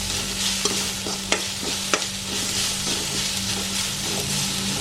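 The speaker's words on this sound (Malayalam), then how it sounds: "നമ്മൾ ഈ ഉള്ളി നല്ലതുപോലെ വഴറ്റണം" Onions stirred and sautéed in a pan for tomato chutney, making a steady sizzle close by. A few sharp spoon scrapes and taps cut through it, and no one talks.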